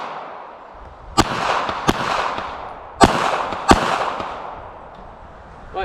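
Pistol shots at a shooting range comparing a Smith and Wesson Bodyguard .380, Sig Sauer P238 and Ruger LCP Max: four sharp, loud reports spaced unevenly over several seconds against steady outdoor background noise.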